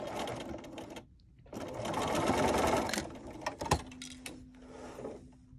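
A sewing machine stitches quilt fabric in short bursts, its close rapid whirring starting and stopping between pauses and a few mechanical clicks, with no voices.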